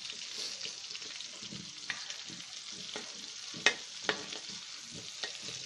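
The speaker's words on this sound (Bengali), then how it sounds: "আমরা এখন এটাকে ভাজবো সময় নিয়ে।" Giant freshwater prawns (golda chingri) frying in hot oil in a pan, a steady close sizzle with occasional stirring scrapes and a couple of sharp clicks, no talk.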